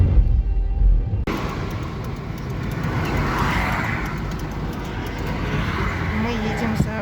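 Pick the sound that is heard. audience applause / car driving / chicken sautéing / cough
car driving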